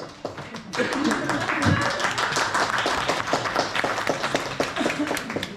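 A crowd at a Boyko-style wedding celebration in a Truskavets hotel claps in a fairly steady rhythm of sharp, close hand claps. Voices chatter and call out underneath the clapping.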